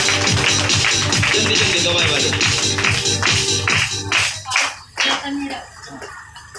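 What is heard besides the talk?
congregation clapping in church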